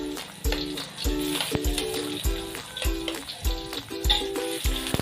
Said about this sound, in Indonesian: Yang pertama itu tumis bawang putih dan bawang merah